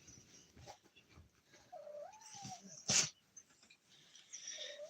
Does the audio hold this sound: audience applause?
no